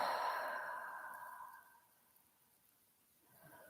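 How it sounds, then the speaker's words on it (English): A long, slow exhale during a guided breathing exercise, a soft airy sigh close to the mic that fades out, followed by the faint start of another breath. "Breathe in deeply to your chest. Breathe out."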